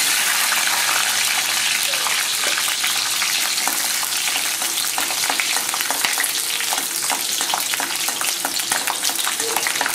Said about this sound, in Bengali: দেখুন রসুনটা লাল লাল ভাজা ভাজা হয়ে গেছে।